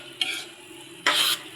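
Shrimp paste with garlic, tomato and onion is sautéed in a pan, with two short bursts of stirring and sizzling, the second louder, close up, and no talking.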